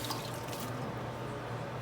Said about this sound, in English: get some water